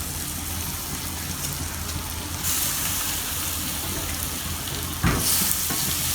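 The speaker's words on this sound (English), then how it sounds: "At this point we are going to add in the cassava." Mashed cassava sizzles and fries steadily in a hot pan, a dense crackling hiss with occasional stirring scrapes and brief louder spatters.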